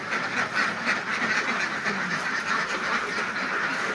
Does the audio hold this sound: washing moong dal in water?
no